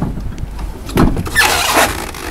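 Hydraulic floor rising and a fold-flat ramp lowering on a wheelchair accessible car, a close mechanical whine and squeal with a few clunks, swelling in two loud bursts.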